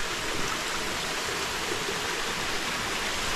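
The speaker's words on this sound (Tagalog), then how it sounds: "Ang talon dito sa Kumalib Falls." Water pours steadily over the small Kumalib Falls in Alilem, Ilocos Sur, making an unbroken loud hiss and roar heard up close, with no one speaking.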